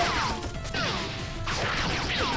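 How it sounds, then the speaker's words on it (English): Glass shattering in a platformer video game, two sharp crashes with bright tinkling fragments and falling debris, separated by a brief lull, loud and without voices. "They broke all the glass."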